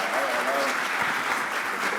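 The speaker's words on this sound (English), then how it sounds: "Give him a big round of applause." Audience applause for Bakari Sellers of South Carolina at a panel event in New Orleans, a steady dense wash of clapping across the whole moment with a voice faintly carrying over it.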